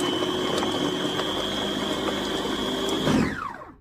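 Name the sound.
electric chopper blending onions, pepper, tomato and garlic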